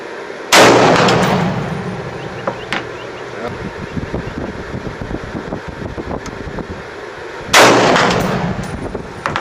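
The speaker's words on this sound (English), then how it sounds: "You can hear it hit the backside." Two loud, sharp rifle shots fired with a muzzle brake, several seconds apart, each followed by a rumbling echo of the bullet hitting the target, with wind noise filling the gap between them.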